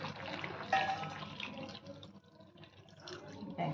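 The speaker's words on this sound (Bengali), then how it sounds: "এবার আমি একটু জল ঢেলে দেবো, গরম জল এর সঙ্গে মিশিয়ে দেবো" Hot water is poured into a cooking pot of potatoes and chicken, a soft splashing trickle that rises and fades, with a voice talking quietly alongside.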